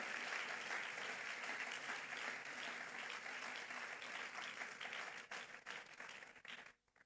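A church congregation applauding in a continuous, dense wash of clapping that holds steady and then tapers off near the end, with no talk over it.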